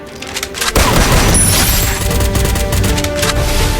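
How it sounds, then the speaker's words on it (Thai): Sustained MP40 submachine gun fire in the Free Fire video game, a loud continuous burst of rapid shots with game effects over it, starting abruptly after a quieter opening. "โอ้โห ยิงสามนัด"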